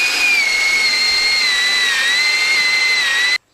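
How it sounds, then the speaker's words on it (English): A power drill bores holes through stacked 4x4 timbers for an anvil stand, giving a steady, loud, high-pitched whine that holds evenly for about three seconds before cutting off abruptly. "So I'm gonna go ahead and start drilling these."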